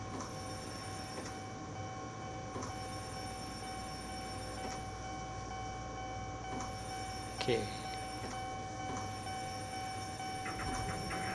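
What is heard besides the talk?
Eizan Electric Railway train running, Railway Nippon video game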